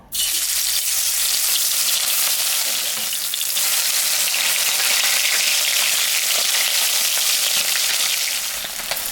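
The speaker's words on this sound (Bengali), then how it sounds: "আমি এখন মাছটা ভাজবো" Fish sizzles loudly in mustard oil in a hot wok, with an intense, dense hiss holding steady for the whole stretch, close up and with no talk.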